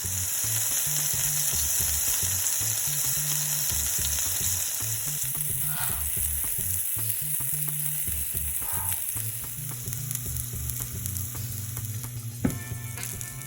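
Diced vegetables fry in a pan on medium heat for homemade salsa, a continuous close sizzle with occasional scraping and a light clatter near the end.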